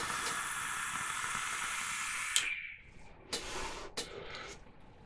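Air hisses harshly and turbulently through a TV RDA rebuildable atomizer by Timesvape during a long draw with the airflow fully open, then stops, followed by a few shorter, fainter puffs.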